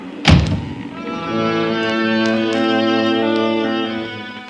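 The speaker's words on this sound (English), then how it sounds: "please close that blinking door. I can't stand to hear a door banging." In a radio drama aboard a ship, a door bangs once with a sharp, heavy thunk, followed by a sustained low, droning tone that hums steadily for several seconds.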